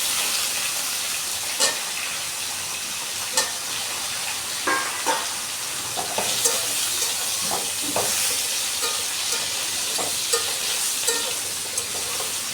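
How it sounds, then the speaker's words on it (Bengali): Cut pointed gourd and potatoes frying in a pan, a loud, steady sizzle close up, with occasional spatula scrapes and stirring knocks breaking through at irregular intervals. "একটু নেড়ে ছেড়ে দিয়ে দিব কেটে রাখা পটল।"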